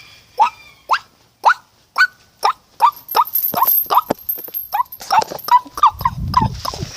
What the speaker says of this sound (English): Oh, here's a guinea hen.